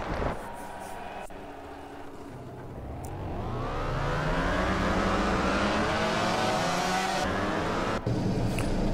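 A Honda Repsol racing motorcycle, number 93, on a wet track in the MotoGP 15 video game climbs from a quiet start into a loud, sustained high engine wail that rises and shifts through the gears, with no talking.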